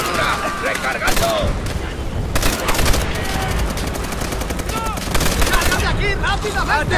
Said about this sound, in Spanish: ¡Siguen disparando!